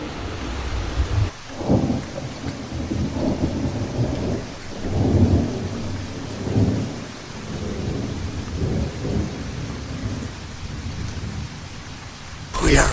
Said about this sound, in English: We got a rainstorm coming through